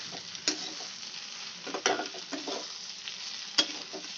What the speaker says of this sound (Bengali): আমি সুন্দর করে লাল লাল করে ভেজে নেব ভেন্ডিটা